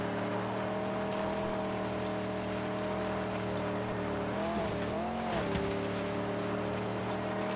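Vehicle driving in the post-apocalyptic game Mad Max, a steady droning engine hum with layered tonal harmonics that rise and dip briefly midway, continuous and loud with no talking.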